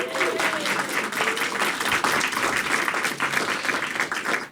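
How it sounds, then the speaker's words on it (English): An audience at a public art discussion about San Pedro Creek Culture Park gives a steady, dense round of applause that lasts throughout, with faint voices mixed in. "Can we give a round of applause to them?"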